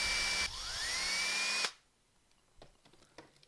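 A power drill bores a hole in a FireFly plastic hard case. It gives one loud, close, steady whine that rises in pitch, then stops abruptly, followed by faint scraping and handling noises.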